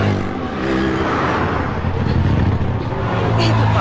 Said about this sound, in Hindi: ट्रैफिक है।